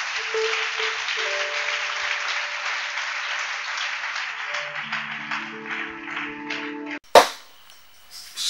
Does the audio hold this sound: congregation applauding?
yes